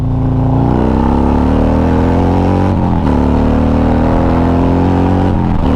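A Stage 4 Harley-Davidson motorcycle exhaust roars steadily on an interstate, loud and droning, pitch climbing gradually as it accelerates, with a brief dip like a gear shift partway through.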